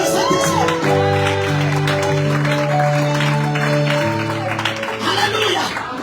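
A church congregation at a women's prophetic conference applauds and cheers, loud sustained clapping and shouts blending with singing or held musical tones throughout.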